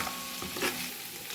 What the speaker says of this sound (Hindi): इस तरह से आपने इसको मिक्स कर लेना।